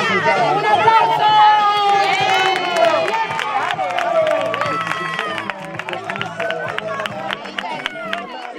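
Crowd at a children's neighbourhood carnival breaks into applause, with sharp scattered claps building through the second half over loud chatter and excited voices.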